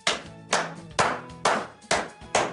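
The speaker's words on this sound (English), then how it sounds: "you get the big clap from me" Six slow, deliberate hand claps from one person, loud and close, evenly spaced about half a second apart with nothing else over them.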